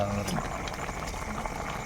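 Kerala country chicken curry bubbling in a pot, a steady close simmer of popping and gurgling throughout with faint background noise and no voices.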